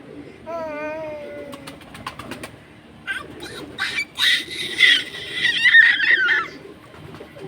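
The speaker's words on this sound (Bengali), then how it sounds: "কবুতর দেখবা না?" Pigeons on a rooftop garden coo and call in a busy stretch of bird sounds, preceded by a few chirps and clicks, moderately close and overlapping one another.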